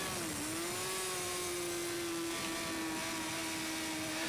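A superbike engine screams at high revs on an Isle of Man TT lap, a loud, close, sustained whine holding nearly steady pitch with a brief dip near the start.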